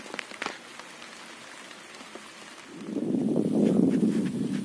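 Rain falling outdoors along a road a short way from home, starting as faint scattered patter with a few sharp taps, then swelling after a few seconds into a steady, louder hiss on surfaces.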